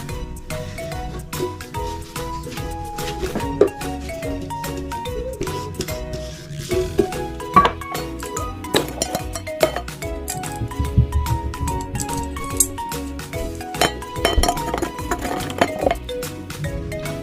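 An empty tin can is washed for a homemade drum, giving steady clinks and metallic knocks over a running-water wash. A faint voice surfaces briefly.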